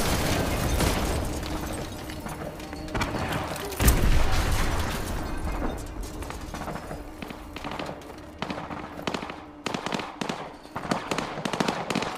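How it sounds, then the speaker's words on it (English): Video game explosions after a SAM site is destroyed sound out as several booming blasts and crackling bursts with scattered pops, some sharp and close, others rumbling in the distance. "Those explosions are going to attract a lot of attention."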